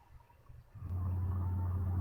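Passing cars picked up through a microphone: a quiet, uneven start, then a loud, steady low rumble of traffic that swells in and holds to the end, with no talking.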